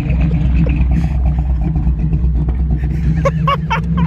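An engine rumbles steadily during a car burnout launch with smoking tires, loud and close, with clattering bursts and short high screeching tones near the end.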